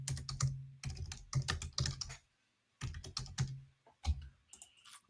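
Fast typing on a computer keyboard in bursts of quick, close clicks, with a short pause in the middle and a few lone keystrokes near the end, and no talking.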